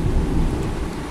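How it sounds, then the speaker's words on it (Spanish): Steady rain with a dense, broad rumbling wash that stays constant across the short moment, fairly loud and close, with no talking. "Sí, en el fondo es una lluvia."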